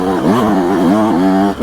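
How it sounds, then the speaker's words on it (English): Close, steady buzz of a Yamaha YZ125X two-stroke dirt bike on a trail, revs swelling and easing in waves before dropping off sharply at the end. "I'm gonna share some footage so you can see how the bike runs."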